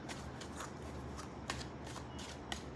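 Tarot cards riffling and being drawn from a deck in a quiet room, a few soft papery flicks and snaps standing out from a steady faint hiss, close but low in level.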